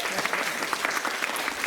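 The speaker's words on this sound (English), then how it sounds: "So a round of applause for all you guys." A crowd at the UK Fruitfest 2022 opening ceremony applauds, loud and close, a thick continuous patter of many hands with no pauses.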